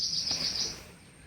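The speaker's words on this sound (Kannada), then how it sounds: "ಬರೀ ಪಕ್ಷಿಗಳ ಸೌಂಡು, ಬೇರೆ ಏನು ಕೇಳಿಸ್ತಿಲ್ಲ" A bird calls with a few quick high chirps in a mangrove forest at Pichavaram, then the call fades into quiet ambient hush.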